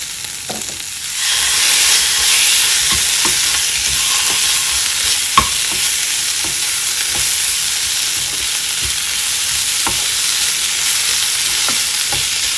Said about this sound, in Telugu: ఈ బంగాళదుంపకి కొద్దిగా మసాలా పట్టే వరకు 2 నిమిషాలు వేయించుకోవాలి.